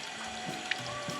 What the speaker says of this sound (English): And then a water fountain.